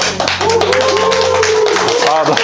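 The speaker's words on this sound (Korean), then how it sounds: "박수 한번 주세요" A small group claps briefly in an indoor interview setting, sharp hand claps sounding over a voice that talks and hums throughout.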